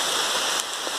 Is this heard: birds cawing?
no